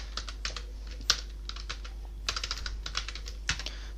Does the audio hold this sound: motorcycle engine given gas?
no